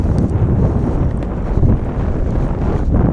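Strong wind buffeting the microphone on Lake Bistineau while fishing from a boat, a loud continuous roaring rumble with no voices.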